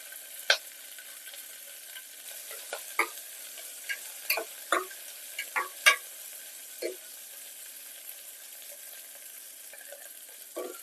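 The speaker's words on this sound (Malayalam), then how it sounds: "നമുക്കൊന്ന് ഇളക്കി കൊടുക്കാം ഇത്തിരി ഒന്ന് വാടട്ടെ സവാളയൊക്കെ" Onions and green chillies sizzle quietly in a pan for a Kerala potato stew while a spoon scrapes and stirs, leaving a scatter of sharp clicks and scrapes over a soft, faint frying hiss.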